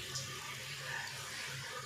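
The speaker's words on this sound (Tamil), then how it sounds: "இன்னும் ஒரு கிண்ணம் தண்ணி ஊற்றிக்கிறேன்" Water poured from a bowl into an onion and tomato kurma; a soft, steady close pour and splash runs alone for under two seconds.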